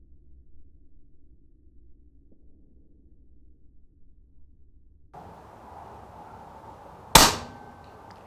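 A single sharp crack from a Daystate Huntsman Revere 30FPE air rifle fires near the end, after quiet outdoor hum and a faint electronic buzz, with a brief ringing tail.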